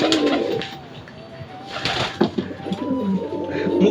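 A pigeon coos close by in low, throaty, rolling calls, repeated through a steady background hum.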